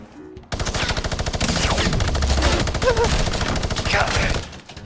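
Rapid, sustained machine gun fire in the video game Fortnite, a loud, steady stream of shots lasting several seconds before cutting off.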